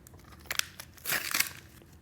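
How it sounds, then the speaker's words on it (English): Foil packaging for Impossible Project Polaroid film being ripped open, heard as a few sharp crinkling, tearing bursts close by in an otherwise quiet room. "And basically you rip it all open,"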